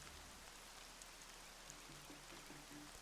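Rain falls in the video game Horizon Zero Dawn as a faint, steady hiss of drops on surfaces, with soft low tones faintly underneath.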